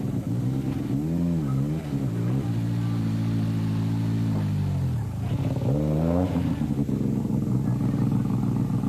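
Small Peugeot rally cars at the 1986 Tour de Corse drive across a lawn, engines revving loud and close, pitch sweeping up and down through gear changes, with one car holding a steady drone before another rises sharply.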